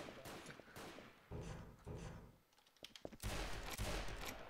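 Gunfire in Garry's Mod, heard as rapid, fairly loud bursts with uneven gaps and a heavy sustained stretch near the end.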